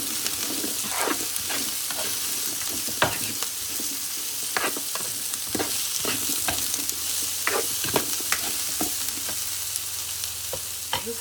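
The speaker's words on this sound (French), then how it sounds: "Je remue." Carrots and sausages sizzle steadily in an electric slow cooker while a utensil stirs them, with repeated scraping clacks and stirs scattered over a continuous frying hiss.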